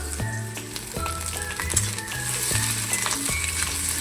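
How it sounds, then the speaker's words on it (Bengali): Onions, green chillies and eggs frying in a pan, a close, continuous sizzle with a rhythmic scraping of a spatula against the metal pan, stirred steadily and heard alone without talking. "পেঁয়াজ আর লঙ্কাটা মোটামুটি ভাজা হয়ে গেছে, এবার ডিমগুলো দিয়ে দেবো"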